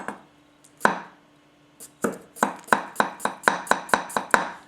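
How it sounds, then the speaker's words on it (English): Masakage Koishi 270mm gyuto knife slicing food thinly on a board, a steady run of crisp close chops that speeds up into an even rhythm after a few isolated cuts. "No problem there, making little thin slices"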